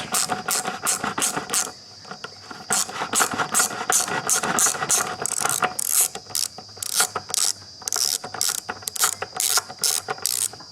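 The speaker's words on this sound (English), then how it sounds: "So there is the ratchet in place, and I'm just basically loosening that up till it comes out." A hand ratchet clicks in fast, repeated bursts while loosening a bolt on the silencer box of a Nirvana, close and crisp, with the rhythm pausing briefly between strokes, and no talking.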